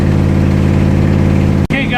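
A 1969 Corvette 427 with a four-speed idles loudly up close with an exhaust leak, a steady low, lumpy drone that is broken once by a sharp click before it carries on.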